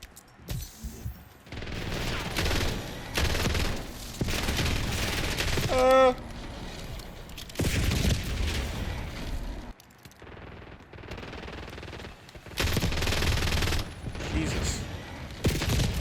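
Automatic gunfire in the Black Ops 7 video game, with several sustained bursts of rapid shots spread through the stretch, separated by short pauses, and a voice talking over parts of it.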